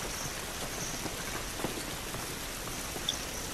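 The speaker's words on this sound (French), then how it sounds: "Cette pluie ne va pas nous aider." Steady rain falls outdoors in the video game The Last of Us, a dense even patter of drops with a few brief louder taps, continuous throughout and without voices.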